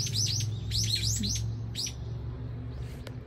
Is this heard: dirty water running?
no